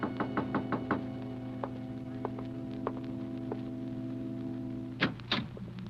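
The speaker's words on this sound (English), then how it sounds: "there was a knock on the door" Sharp knocks on a door from a 1946 radio suspense drama: a quick cluster of raps, then a few spaced single knocks and a final louder flurry, all over a steady electrical hum.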